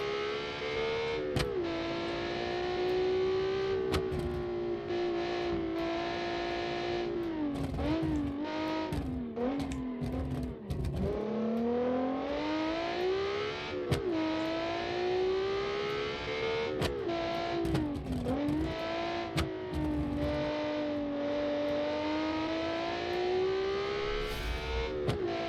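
A 1992 DTM-style race car in the Automation racing game revs hard toward 9,000 RPM, its loud, buzzy engine note rising and dipping repeatedly through gear changes and throttle lifts for the whole stretch.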